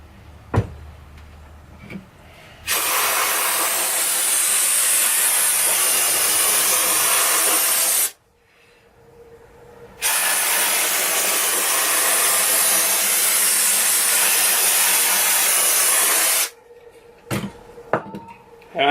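Two long, loud, steady hissing sprays of cleaner onto the brake rotors of a 1994 Yamaha FZR 600, each lasting several seconds, with a short gap between and a few clanks of handling before and after.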